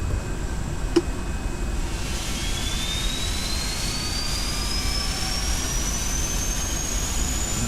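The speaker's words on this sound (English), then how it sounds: "Starting engine 2." A Boeing 747 jet engine spins up at start, a steady loud roar with a thin whine that climbs slowly in pitch, plus a single brief click near the start and no speech.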